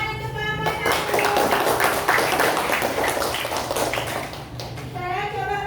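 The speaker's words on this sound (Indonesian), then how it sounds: "tepuk tangan untuk kelompok 1" Clapping from a classroom group in applause for the first student team after its presentation, a steady burst of hand claps with children's voices mixed in throughout.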